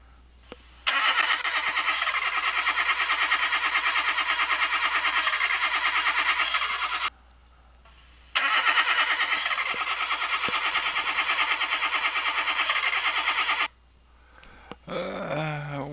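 A 1999 Buick Century engine cranks loudly and steadily for about six seconds, stops, then cranks again for another five seconds without catching, with a brief squeal and a short burst of noise at the end.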